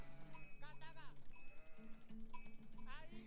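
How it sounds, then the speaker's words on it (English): Several sheep bleat in wavering calls in Age of Empires IV, a couple overlapping, over a steady background hum with a faint clanking bell. "A lot of sheep right around the town center"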